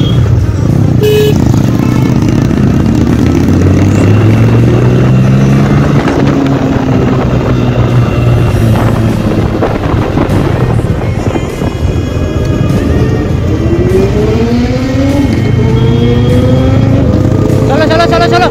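Group of riders on a bike ride, with a Bajaj Pulsar among them, engines droning loud and continuous with rising and falling revs as bikes pass close, wind rushing, and voices talking over the noise.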